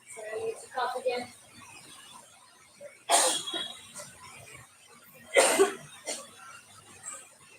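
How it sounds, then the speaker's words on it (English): A man coughs after a boxing training session: two sharp, close, forceful bursts a couple of seconds apart, with faint breathing between and no talk. "Sorry, I need to cough again."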